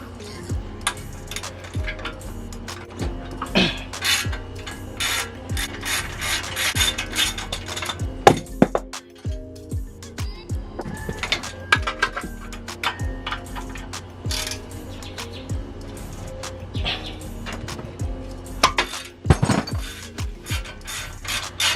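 A brake caliper is taken off a vehicle with hand tools, giving irregular metallic clinks, scrapes and ratcheting clicks at close range, with scattered louder knocks throughout.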